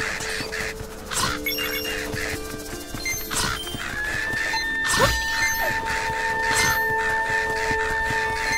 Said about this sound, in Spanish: Ya digo, ¿cuánto pájaro de esto hay?